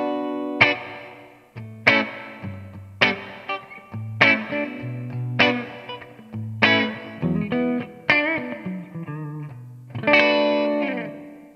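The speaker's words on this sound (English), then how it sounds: "And here is the new plate reverb." Electric guitar chords strummed in a steady rhythm through a TC Electronic G-System Golden Plate reverb, each ringing out with a smooth, bright reverb tail that lingers between strikes; no voices.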